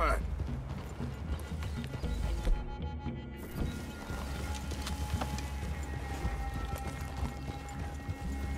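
Horses trotting and neighing in Red Dead Redemption 2, steady clip-clop hooves with a whinny over outdoor game ambience, under people talking.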